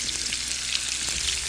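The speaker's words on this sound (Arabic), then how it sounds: "هاخد قطع الدجاج وحطها في الزيت" Chicken pieces frying in hot oil, a dense steady sizzle throughout, loud and close, with no voices.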